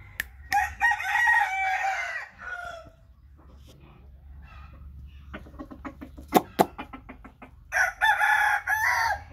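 A young American Asil rooster crows loudly and close by twice, at the start and end, with clucking and scattered pecking or tapping sounds in the quieter middle.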